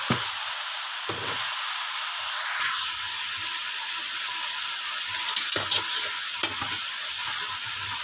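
Bottle gourd (upo) sizzles steadily in a pan with sautéed onion and garlic, a continuous close frying hiss with occasional stirring clatters and scrapes.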